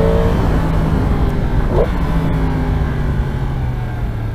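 A 2022 Yamaha MT-10 motorcycle engine drones loud and close as it revs and pulls along a damp road, with a steady low roar and a rising pitch sweep partway through.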